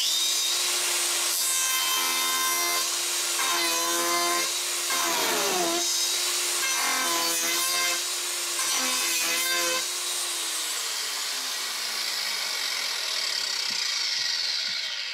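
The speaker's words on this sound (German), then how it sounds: "Ich werde einfach mal versuchen, den Kunststoff zu schleifen." An angle grinder grinding plastic: a loud, harsh grinding whine runs steadily, with a strong tonal hum and rasping bursts, then winds down toward the end.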